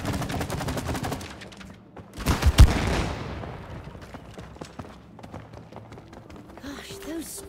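Sap-and-shooting action in the co-op video game It Takes Two: a rapid burst of gunfire-like shots and a heavy thud, with scattered smaller impacts and game effects afterward, mixed with player voices.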